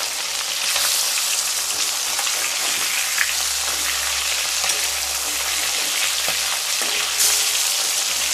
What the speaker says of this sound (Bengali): মাছগুলোকে ভেজে নেব।